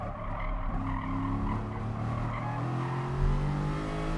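Race car in GT Sport at the Tsukuba circuit, engine tone dropping in steady harmonic pitch as it brakes hard into a corner, with a faint tire squeal, loud and close.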